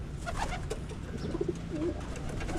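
Pigeons coo repeatedly inside a pigeon loft, their soft low calls coming in short bursts over a steady background hum, fairly close and moderately loud.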